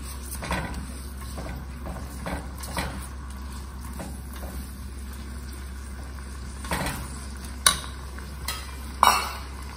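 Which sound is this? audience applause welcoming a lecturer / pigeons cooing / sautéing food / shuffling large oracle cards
sautéing food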